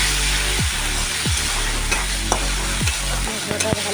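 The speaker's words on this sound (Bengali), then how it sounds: "এই মশলাটা আবার ভালো করে কষিয়ে নিতে হবে।" A chili and turmeric spice paste fries in hot oil for a fish tel jhal, a loud, continuous close-up sizzle broken by repeated scraping spatula strokes and a few light clinks.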